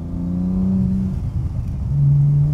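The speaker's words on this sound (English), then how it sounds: "I just listen to the exhaust all day." An 800+ HP Nissan Skyline R34 GTR rumbles with a deep exhaust note close by, revving up, settling briefly, then rising again into a louder, sustained drone.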